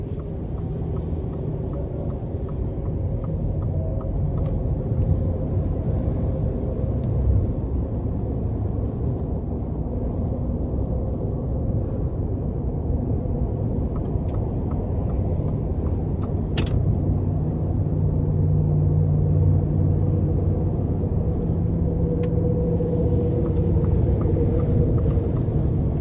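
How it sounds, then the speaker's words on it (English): A 2023 Ford F-150 Lightning electric pickup drives steadily with a low, constant road rumble and a soft tire hum, very quiet with no engine roar. "All you can hear is just a small screech from the tires."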